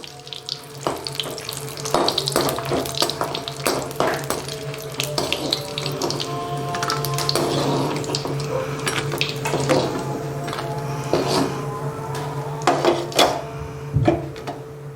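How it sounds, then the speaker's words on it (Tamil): Peeled garlic cloves fry in hot oil in a pan. A steady sizzle and crackle continues throughout, with occasional clinks of a utensil against the pan. "அதுக்கப்புறம் பூண்டையும் போட்டு நல்லா வறுத்து எடுத்துக்கலாம்"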